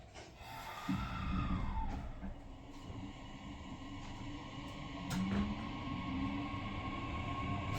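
Inside a moving JR Central 315 series train, a steady low rumble of wheels on rails fills the cabin, with sustained electric motor whines rising and shifting in pitch and occasional sharp clunks.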